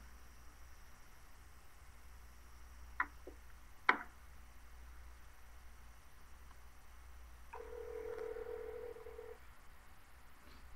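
A telephone call being placed: two sharp clicks, then a steady dialing tone that holds for about two seconds against quiet background hiss, with no talking.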